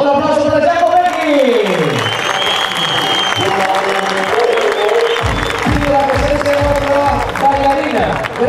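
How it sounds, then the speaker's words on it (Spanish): A crowd at a rally event in the Canary Islands applauds and cheers for a rally driver, continuous clapping mixed with a low engine rumble that sweeps and pulses, while an announcer's voice runs over it. "Así que dentro del coche, otro aplauso para Jaco Becky."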